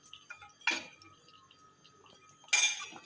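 Spoon clinks twice against a pot of wheat kheer with cashew and almond pieces, cardamom and dry ginger powder being stirred, two sharp metallic taps separated by near silence.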